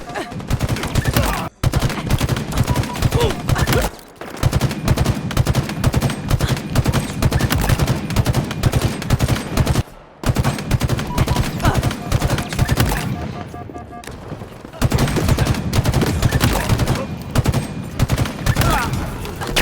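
Rapid, sustained automatic gunfire from the video game Halo Infinite rattles loudly and close in long dense bursts, broken by a few brief pauses.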